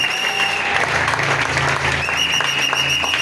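A church congregation applauding and acclaiming the Lord, steady dense clapping with cheering voices and a sustained instrumental tone underneath, loud and continuous throughout.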